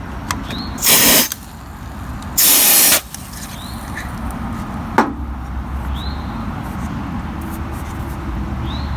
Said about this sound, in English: Keyboard cleaner.